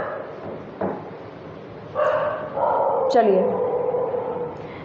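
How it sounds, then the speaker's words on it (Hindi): A dog at night barks and yelps in short bursts, fairly close, with someone speaking over and between the calls. "प्लीज़ डोंट माइंड द आवाज़ ऑफ दिस कुत्ता, this dog is, I don't know why"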